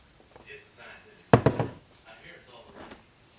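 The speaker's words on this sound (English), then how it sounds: "I'm just gonna scrape all the excess." Frozen whipped icing being scraped from a bowl, giving a short burst of clinking utensil-on-bowl scrapes about midway, amid faint room noise and soft background sound.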